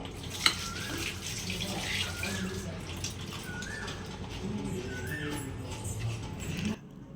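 Kitchen tap running steadily while carrots are washed under it, a continuous splashing stream with a light clink near the start, birds chirping faintly in the background, and the flow stopping just before the end.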